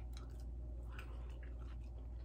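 Someone chewing chicken nuggets coated in crushed pork rinds and cheese instead of batter, with soft, moist bites and only faint crunch, close to the mic with steady room noise behind.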